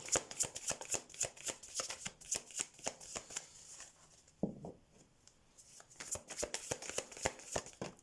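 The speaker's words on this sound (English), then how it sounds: "let's shuffle the cards" Rapid riffling and slapping of tarot cards being shuffled, repeated in quick bursts with a short quieter pause midway, close and crisp.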